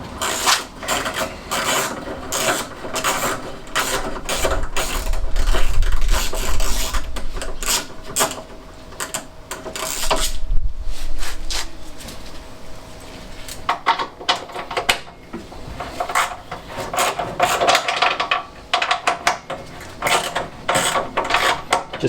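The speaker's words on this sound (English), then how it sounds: "I've got 13mm socket ratchet, and I'm going to start on this side" Ratchet with a 13mm socket working the bolts of a nudge bar on a classic Fiat 500, giving close, repeated rasping clicks in bursts, with pauses and handling noise between them.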